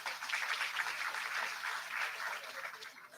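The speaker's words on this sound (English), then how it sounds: "Please give a huge round of applause." Audience at a business school foundation day ceremony applauding an invited guest, a moderate, sustained patter of clapping that fades slightly toward the end.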